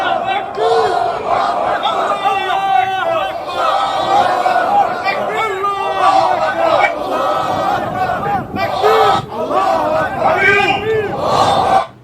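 Large crowd walking while chanting slogans and shouting, loud and continuous, with rhythmic massed voices, bellowed calls and overlapping chatter filling the whole stretch.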